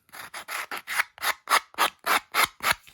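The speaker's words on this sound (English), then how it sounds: "I like to sand the edges after I cut off my background because it smooths up the edge." Cut paper edge for a collage being sanded, a steady run of about a dozen short rasping strokes in even rhythm, close and clear with no talking.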